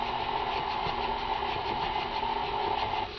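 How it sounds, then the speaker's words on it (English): An electric stand mixer runs steadily on medium speed, creaming unsalted butter for a marble cake, giving a constant close motor whir with no breaks. "we're going to go ahead and start the mixer on medium"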